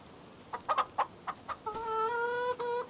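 Several short clucks from chickens in the video game Farming Simulator 25 in quick succession, followed by a longer drawn-out cackle, fairly clear and close.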